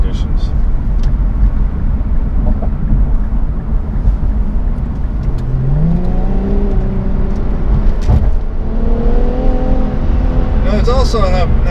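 A 2018 Infiniti Q50 Red Sport 400, rated at 400 horsepower and fitted with a 7-speed automatic, accelerates hard from inside the cabin, its engine note rising steadily over a constant road rumble.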